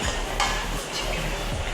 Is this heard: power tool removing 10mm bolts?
no